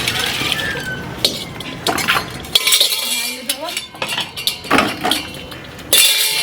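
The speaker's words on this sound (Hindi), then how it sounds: "की करै छी बर्तन धोबै छी" Pots, plates and cutlery being washed clink and clatter in irregular, fairly loud bursts close by, with people talking between the clanks.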